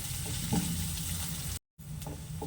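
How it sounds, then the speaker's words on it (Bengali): Masala spices frying in a pan for restaurant-style paneer masala, a steady close sizzle with a few stirring scrapes and a brief silent gap before the sizzling resumes. "মশলাটা দেওয়ার পর মশলাটা ভালোভাবে একটু ভেজে নেব।"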